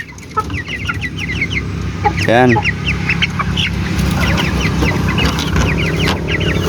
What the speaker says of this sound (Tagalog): so ito yung mga sisiw natin no, mga little yan so limang piraso lang to sila